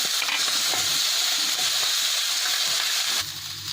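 Capsicum shallow frying in oil in a kadai for kadai paneer, a loud, steady close-up sizzle with stirring that drops off sharply near the end.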